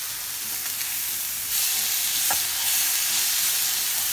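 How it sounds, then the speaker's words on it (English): Chicken frying in a hot oiled pan gives a continuous bright sizzle and hiss that swells slightly partway through, close and loud, with no voices. "That sizzling sound, that's the sound you want."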